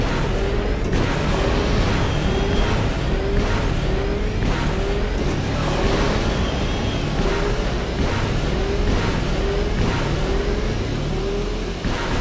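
Swoop bike racing engine in the video game Knights of the Old Republic, a loud continuous roaring drone with steady pitch sweeps as turbo boosts are hit, sustained alone throughout without talk.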